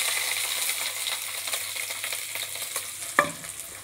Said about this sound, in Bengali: এবার থোড়টাকে ভাজা করে নিতে হবে খানিকক্ষণ।